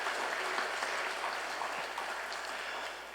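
Steady applause for visiting Chicago elders' choir members and their families at a Sunday church service, a dense even clatter of many hands held at constant level throughout, with no talk over it.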